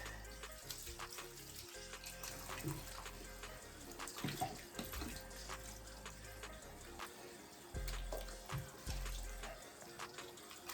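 Water runs steadily from a faucet over a lace wig as shampoo is rinsed out, with a continuous splashing flow interrupted by brief shifts and gurgles as the hair moves under the stream.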